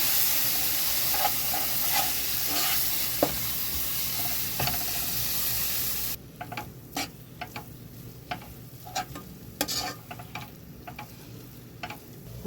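Spices and masala being stirred in a pan for mutton curry, with steady sizzling and hissing at first, then quieter scattered scraping and tapping of a spoon against the pan.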